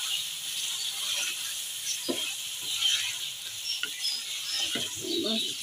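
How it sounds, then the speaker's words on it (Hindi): Meat frying with yogurt in a pan, a continuous bright sizzle and hiss throughout, with occasional soft scrapes and knocks of stirring near the end. "इसको हम अच्छे से भून लेंगे।"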